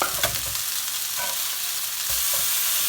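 Chicken pieces fry in a pan with cumin, giving a steady, close sizzle with a few soft stirring scrapes and no voices.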